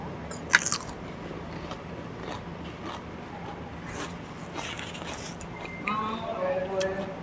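A crunchy bite while eating a spicy Thai pounded salad, close crisp crackling and chewing with a sharp crunch near the start, under ongoing talk.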